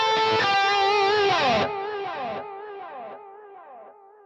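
A distorted electric guitar through a Line 6 Helix plays a descending run of sustained notes, each ringing out with echoing delay repeats and a reverberant tail as it fades.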